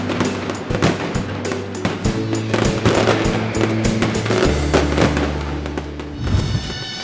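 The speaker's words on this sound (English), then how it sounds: "Pyrotechnic professionals blend colour and sound perfectly, making hearts thump and covering the Valencian festivals in a cloud of gunpowder" Fireworks and firecrackers go off at the Fallas festival in Valencia in loud, rapid crackling bursts, a dense barrage of bangs and pops that barely pauses, with no talking.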